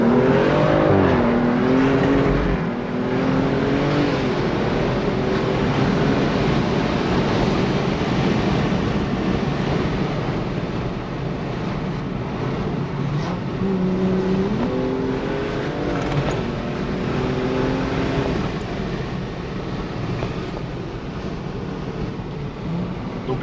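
A BMW M235i tuned to 550 hp accelerates hard, its turbo engine note rising in pitch across several gear pulls under heavy wind rush, loud and sustained throughout.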